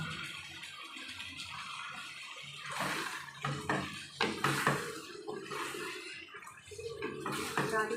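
Boiled potatoes and jackfruit tip into a hot pan of spices with a wet splattering sizzle and clatter in several bursts, close by, and a voice talks in between.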